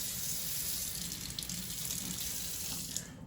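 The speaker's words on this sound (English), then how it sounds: "I want to put just a little bit of water." Water pours from a tap or jug into a baking dish holding lemon garlic Atlantic salmon. It makes a steady close splashing stream for about three seconds, then cuts off abruptly near the end.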